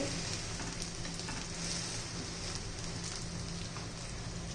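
A bread omelette sizzles steadily in a hot pan as it is pressed down, a continuous crackling fry with faint pops and scrapes, moderately close and without speech.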